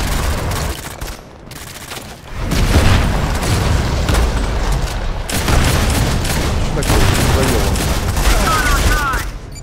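Rapid, sustained gunfire in Modern Combat 5 from a jammed weapon that keeps shooting on its own, loud and dense, dropping briefly before resuming in a long continuous burst, with a voice talking over it.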